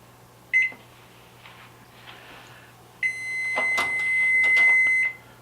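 A microwave oven beeps as a 30-second timer is set, then starts a timed cook with a steady hum and high tone, with light clatter inside near the end.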